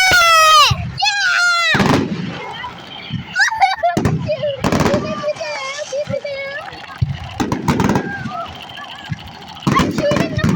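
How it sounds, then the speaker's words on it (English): Fireworks set off outdoors at a Fourth of July celebration, a string of sharp loud bangs and crackles in bursts, mixed with excited children's shouts and squeals and adults talking. "I'm shooting the fireworks!"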